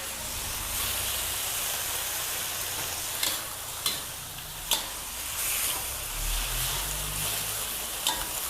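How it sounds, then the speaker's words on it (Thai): Holy basil stir-fried over high heat sizzles and hisses steadily in the pan, broken by occasional clanks of the spatula, with no voices. "พยายามผัดกระเพราให้สุกค่ะ ใช้ไฟแรงได้เลยนะคะในขั้นตอนนี้"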